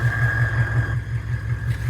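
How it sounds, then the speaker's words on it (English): A GM 6.5 diesel engine idles at steady speed, a close, continuous low rumble with an even pulsing beat and a faint whine above it, heard alone. "I don't know if you can hear the engine. Doesn't seem like really that out of the ordinary"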